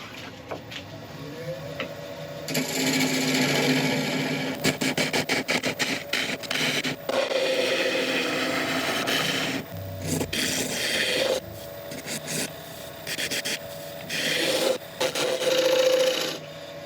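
Rasping, scraping wood-turning noise from a lathe tool cutting and rubbing on a spinning thuya burl, in bursts with brief pauses, close and steady.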